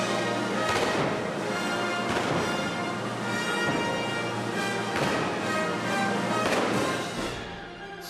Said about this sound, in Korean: 악보에 대포를 쏘라고 되어 있습니다